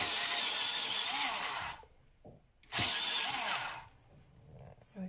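A coloured pencil being sharpened, two bursts of gritty grinding about two seconds each separated by a brief pause, close and fairly loud with a faint click near the end.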